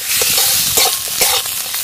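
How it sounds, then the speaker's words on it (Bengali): Potatoes sauté with ginger and cumin in oil in a pan, a loud, close, steady sizzle with repeated stirring scrapes from a spatula, no voices. "আদা জিরে দিয়ে আলু খুব ভালো করে কষে নেব।"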